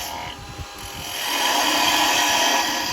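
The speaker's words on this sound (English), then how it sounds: "Actually, I think I'm going to use a small spindle gouge." A small spindle gouge cuts wood on a lathe, beginning with a light chattering scrape and swelling into a loud, steady, close cutting hiss.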